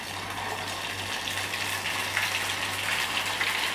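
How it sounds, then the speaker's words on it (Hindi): Ghevar batter is poured in a thin stream into hot ghee, giving a steady, loud hissing sizzle and gush that holds throughout, close and without speech. "अब हम इसे फिर से बैटर डालेंगे।"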